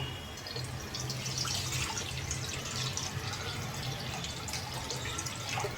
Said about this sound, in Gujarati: કઢાઈમાં આપણે પાણી નાખીશું.